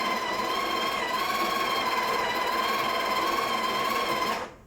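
The built-in grinder of a Breville Barista Touch espresso machine whirs through coffee beans in one steady, fairly loud buzzing run of about four seconds, then cuts off abruptly.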